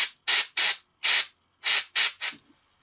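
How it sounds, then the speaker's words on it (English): An airbrush sprays paint onto a miniature wargaming figure in seven short, sharp hissing bursts separated by brief pauses, close and fairly loud, with no voices. "So we're going to hit, I'm going to have to go under this weapon right here"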